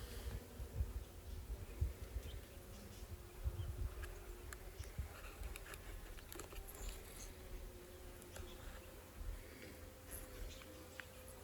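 Honey bees in a small winter mini nuc hive give off a low, steady buzzing with scattered soft taps and rustles, heard close up and fairly quiet throughout.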